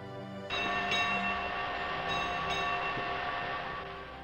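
Train sound effect from the strategy game Victoria 2: a railway rumble with a horn-like tonal blast, bell-like accents partway through, fading slowly at the close.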